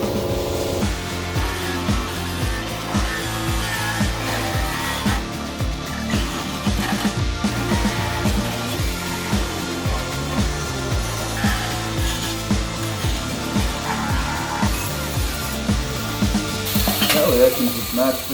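Abrasive peel disc and wire wheel grinding rust off the rocker panel of a Chevy C10/20 pickup, a loud continuous harsh rasp with rhythmic surges as the tool bites and lifts, running for the whole stretch.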